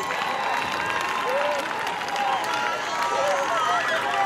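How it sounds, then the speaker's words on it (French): Church congregation cheering and applauding during a healing service, a loud, sustained roar of clapping and acclaiming voices with crowd babble beneath it. "Acclame plus fort, il reçoit ton miracle."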